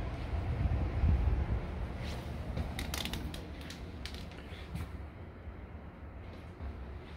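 The front door of a rental house in Occoquan, Virginia creaks open with scattered wooden creaks and clicks over a low rumbling background.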